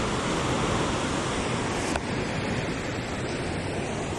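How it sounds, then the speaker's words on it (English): Ocean surf at Stirling Point on the southern tip of New Zealand's South Island produces a steady, dense roar of breaking waves with no voices. "Lots of waves."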